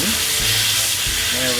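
Salmon skin searing skin-side down in a hot pan, making a brief, loud, close sizzle with faint voice-like tones mixed in.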